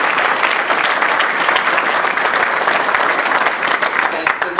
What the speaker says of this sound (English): So I want to give him a round of applause.